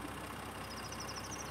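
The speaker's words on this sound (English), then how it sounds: "It's not a big, like, loud clanging engine, which is cool." A 2021 Land Rover Range Rover P400 HSE Westminster Edition idles quietly under its plastic engine cover, a soft, steady hum with a faint high whine and no clanging.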